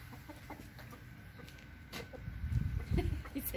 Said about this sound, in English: And here are some more pretty roosters.